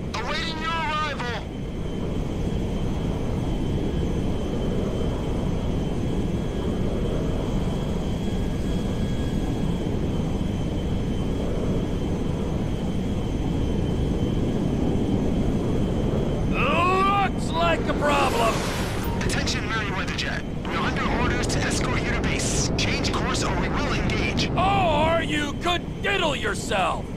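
A cargo jet flying in Grand Theft Auto V gives a steady, loud roar with rushing wind throughout, and bursts of voices and game chatter over it in the second half.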